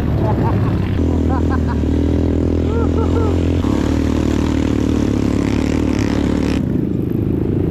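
Motorcycle engine running steadily while riding through volcanic lahar on the Mt. Pinatubo trail, a loud continuous drone with clattering, and people talking over it throughout.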